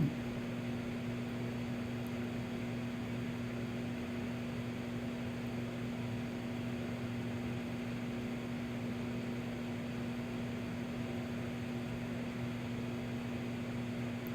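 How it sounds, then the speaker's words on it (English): A steady, even mechanical hum from a microwave oven running nearby, a constant low drone unbroken from start to finish, with no voices. "then it'll go in the microwave. It's about a minute"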